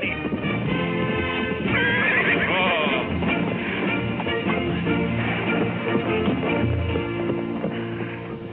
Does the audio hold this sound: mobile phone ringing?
no